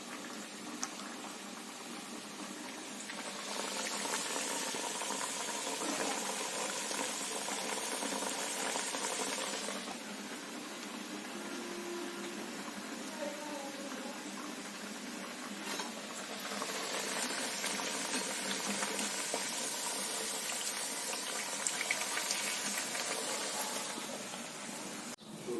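Sajja appalu, pearl millet sweets, deep-fry in oil with a soft, continuous hissing sizzle that swells and eases in long stretches, fairly quiet and without speech.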